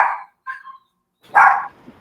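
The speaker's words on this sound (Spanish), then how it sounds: "Están ladrando un poquito los perros" Dogs bark a few times nearby, two or three short separate barks with brief silences between, moderately loud with no talk over them.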